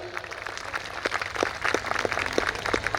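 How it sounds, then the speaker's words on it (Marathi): A school audience at a students' live musical show at St. Paul's International School, Kolhapur, claps in scattered, uneven bursts, fairly faint and thin rather than a full roar. "एकदा जोरदार टाळ्या."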